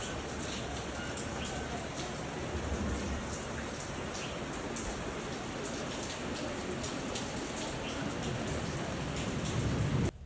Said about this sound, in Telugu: బయటైతే వర్షం వస్తుంది